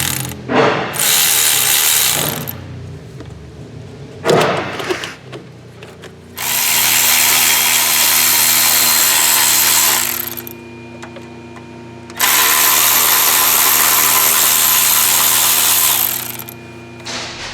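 Bursts of ratcheting and whirring power tool noise while removing engine parts from a Chevy Cruze during turbocharger replacement, several loud stretches separated by brief pauses, close by with no talking.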